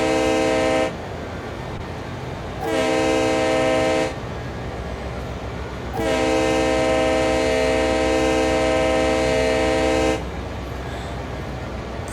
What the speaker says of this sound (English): the horn sound when going in and out of a tunnel